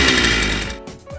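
A Power Plus brush cutter's small two-stroke engine runs loud and steady just after starting, its buzzing drone dropping and dipping as the throttle eases back, with no talk over it.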